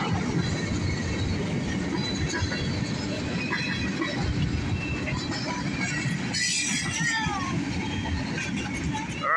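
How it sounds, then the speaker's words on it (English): A southbound CSX mixed freight train rolls past close by, a steady loud rumble of wagons with brief wheel squeal and clatter partway through, no pause in the noise. "there goes southbound CSX mixed freight"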